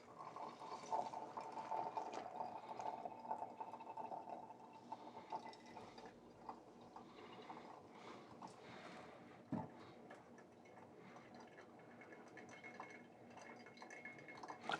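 Water streams from a kettle onto coffee grounds during pour-over brewing, a soft continuous trickle and splash that is strongest at the start and then thins to quieter pouring and drips.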